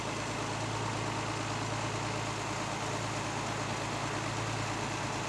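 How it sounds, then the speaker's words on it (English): A vintage Mercedes Pagoda engine idles with a steady, low hum, smooth and constant throughout with no revving or other sounds. "You can just see here how smooth this engine runs."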